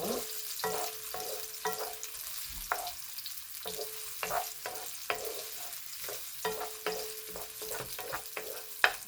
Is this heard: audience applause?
no